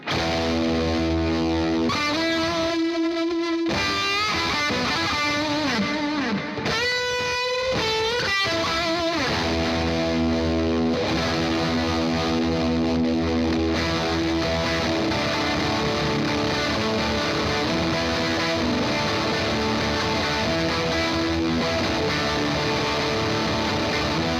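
Heavily distorted electric guitar through a JHS Bender fuzz pedal plays sustained chords and bending notes, washed in echoing delay repeats and a spacious reverb tail, loud and continuous.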